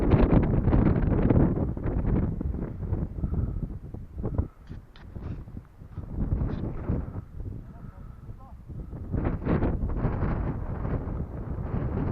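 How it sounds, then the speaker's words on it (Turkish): Strong, steady wind gusting through trees on Barla Mountain, a broad roaring rush that swells and eases, close to the microphone, with brief moments of talk. "rüzgarın sesini duymanız için ağaçlara yaklaşıyorum"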